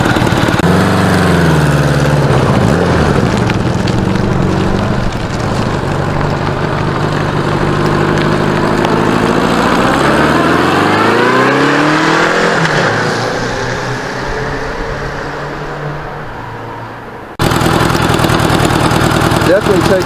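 A 1985 Honda Goldwing GL1200 motorcycle out on a ride after a carburetor swap: a loud, steady engine drone with rising and falling revs through gear changes, close to the rider, easing off before a sudden louder burst near the end.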